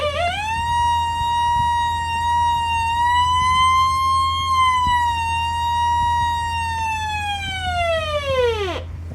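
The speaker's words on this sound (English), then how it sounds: "But I'm going to siren test on this review." A siren tone sweeps up and holds a steady wailing pitch, then drops sharply at the end, loud and clear over a low constant hum.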